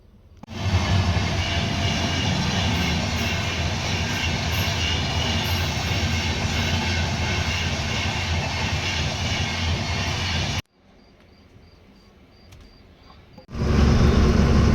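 A loud, steady rumble of a train rolling past a railway crossing for about ten seconds, then a quieter pause with a faint tone before heavy noise returns.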